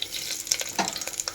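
Mustard seeds and cumin hit hot oil in a pan, producing a brief burst of crackling, popping sizzle with sharp little spits close by.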